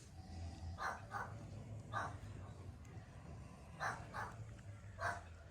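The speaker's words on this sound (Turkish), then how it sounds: "Şşt, hırlamayın." A dog growls low and continuously at close range, broken by a few short, sharper barks or yips spaced through the stretch.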